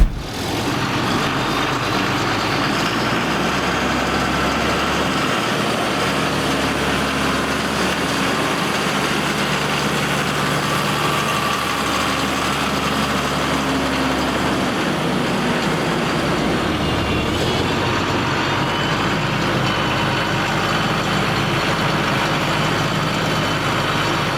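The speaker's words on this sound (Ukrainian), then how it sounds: "у нас тут вже встановлений шестициліндровий двигун" A six-cylinder, 140-horsepower tractor engine runs as a loud, steady drone for the whole stretch, with a slight shift in pitch midway and no speech over it.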